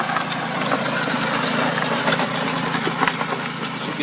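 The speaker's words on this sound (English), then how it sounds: "This is a core aerator." A lawn core aerator's engine runs steadily at an even pace, a dense mid-pitched mechanical drone with some knocking texture, heard close and alone.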